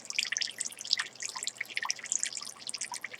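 Water is poured into a small dish inside an isopod enclosure, giving a light, continuous trickle with scattered drips and splashes, close and fairly soft, with no voices.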